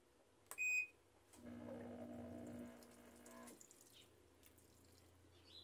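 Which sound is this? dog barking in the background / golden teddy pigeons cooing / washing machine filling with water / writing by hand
washing machine filling with water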